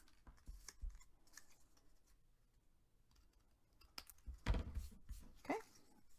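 Scissors cut through chipboard, a few sharp crunching snips spaced out between quieter handling noises close up.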